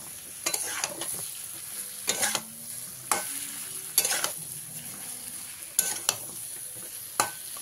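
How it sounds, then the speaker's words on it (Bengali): Ridge gourd and potatoes stirred in a pan, heard as irregular bursts of spatula scraping and clattering against the pan over a soft, constant sizzle, about six strokes in close, quiet kitchen surroundings. "ঝিঙেটা দিয়ে ভালো করে আলুর সঙ্গে মিশিয়ে নেব"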